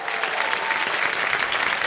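Studio audience on a Hindi quiz show set clapping together, a dense, loud, sustained burst of applause filling the room without pause.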